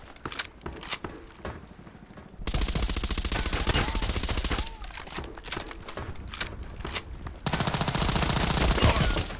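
Rapid, loud sniper and rifle fire in the ADXsniper video game, arriving in dense bursts that come and go, with an especially heavy stretch near the end.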